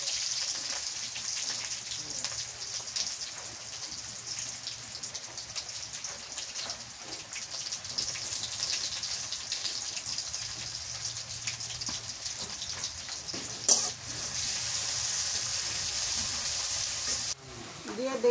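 Onions fry in hot oil in a home kitchen, a steady close sizzle that runs without pause, with one brief clatter near the end.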